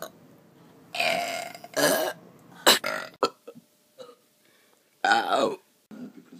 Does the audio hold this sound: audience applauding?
no